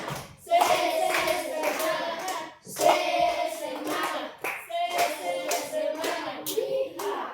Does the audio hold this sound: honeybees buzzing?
no